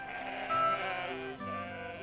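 Sheep bleat in a flock, overlapping drawn-out wavering baa calls from several animals close by, steady and fairly loud with no voices.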